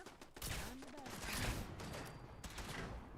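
A turret opens fire in the video game Fallout 4, a burst of rapid, loud gunfire that rattles on for about three seconds, with a faint voice underneath.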